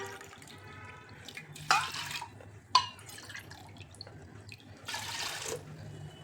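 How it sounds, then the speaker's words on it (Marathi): Water splashes and gushes into a pot in a couple of short pours, with a sharp clink between them and a steady low hum underneath, as water is added to soaked lentils. "ह्यामध्ये घालायचे पाणी"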